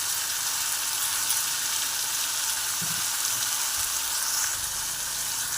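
Onion and tomato frying with turmeric and salt in a pan for hotel-style sambar, a constant dense hiss of sizzling close by, with faint low knocks and no talking.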